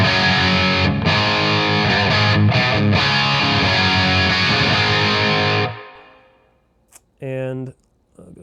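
Electric guitar through a Nano Cortex with a touch of reverb, played as a loud, dense distorted chord passage for several seconds before dropping away, followed by a brief single strummed chord.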